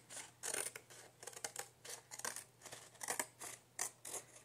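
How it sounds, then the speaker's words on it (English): Scissors cut through a scrap of file folder in a rapid series of crisp snipping strokes, close up and fairly quiet, with no talking. "So let's just cut this extra file folder off here."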